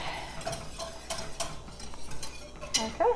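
Whisking a white wine sauce in a pan, a wire whisk scraping and clicking steadily against the metal in quick repeated strokes, fairly faint and close, with no talking.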